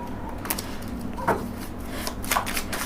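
Tarot cards are shuffled during a Hindi tarot reading, with soft riffling flutters and a few sharper slaps of the deck heard close and fairly quiet over a low room hum.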